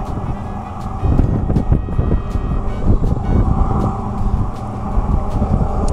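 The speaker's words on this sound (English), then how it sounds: "this wind is gonna drive me crazy today" Steady, loud wind buffeting and rumbling with low gusty roar throughout, swelling stronger after the first second, outdoors at a winter fishing spot with gusts around 15 miles per hour.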